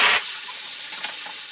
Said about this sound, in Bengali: এবার এই তেলের মধ্যেই আমি ব্রোকলিগুলোকে ভেজে নেব।